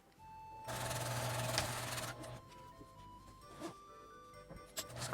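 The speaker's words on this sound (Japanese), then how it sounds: "この最初の縫った縫い止まりまでミシン目の下を縫います" A sewing machine runs in a burst lasting a little over a second, stitching below the seam line of a zipper pouch, with a steady mechanical whir. Quieter clicks and handling sounds follow, and there is no talk.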